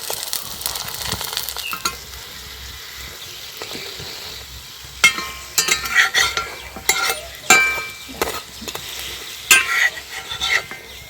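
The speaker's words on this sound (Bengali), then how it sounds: "এইভাবে করে প্রত্যেকটা ভেজে নেব।" An egg-filled paratha fries in a pan with a steady close sizzle, joined in the second half by a run of sharp metallic scrapes and clatters as a spatula turns and lifts it.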